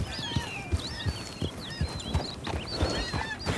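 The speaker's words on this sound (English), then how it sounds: "We are giving some time to our horse to recover his stamina, guys, because he is shouting too much" A horse in Red Dead Redemption 2 trots with steady clip-clopping hooves while high whinnies and snorts repeat over the top, close and fairly loud with no talk.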